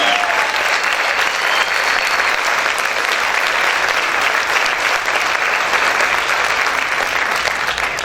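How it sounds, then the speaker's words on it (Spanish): A church congregation claps loudly and steadily in praise, a dense, sustained wall of applause filling the room. "¿Cuántos pueden aplaudir fuerte al Señor?"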